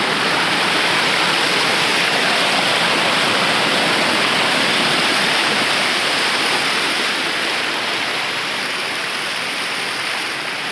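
Loud, continuous roar of Muttal waterfall, a dense steady rush of falling water filling the scene without pause.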